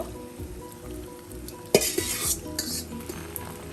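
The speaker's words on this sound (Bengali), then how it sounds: "এখন আমি মাংসগুলো দিয়ে দিব" Beef pieces dropped into hot olive oil and ghee, a sudden loud sizzle that keeps hissing while a spoon scrapes and stirs against the pot, close up with no talking.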